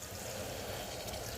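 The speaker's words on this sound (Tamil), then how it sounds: "அதுக்கப்புறம் தேவையான அளவு தண்ணி வந்து சேர்த்துக்கலாம்." Water is poured into a pot of vegetable brinji rice, giving a steady, close, faint splashing pour that runs throughout.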